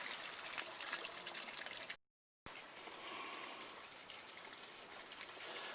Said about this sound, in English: So this is water coming from the deep well, which is next to our rice paddies.